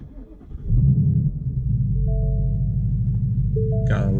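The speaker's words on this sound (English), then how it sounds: "And of course I have to start the car too." A 2018 Ford Mustang GT V8 turns over and fires up into a deep, loud rumbling idle that stays steady, recorded close by.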